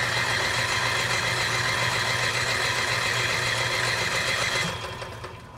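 Gasoline generator built into a 2020 Chateau 22E RV runs steadily with a loud, even engine drone and buzz, then winds down near the end.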